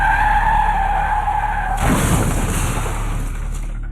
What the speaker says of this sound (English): A CCTV clip from Koramangala shows the moment the car crashed.